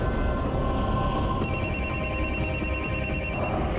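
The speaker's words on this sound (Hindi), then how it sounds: "ये रोहन का फोन आ रहा है।" A mobile phone rings partway through with an electronic trilling ringtone that repeats steadily for about two seconds, thin and clear over a loud, dense hiss of background noise in a tense crime-drama scene.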